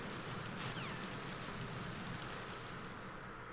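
Steady rain falls in the video game Metal Gear Solid 2, a dense, even hiss of drops that holds at a constant level throughout, with no voices over it.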